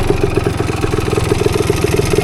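A 1975 Yamaha DT250 trail motorcycle engine idles close by, a loud steady two-stroke putter with a rapid, even clattering beat throughout and no talk.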